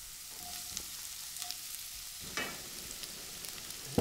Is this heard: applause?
no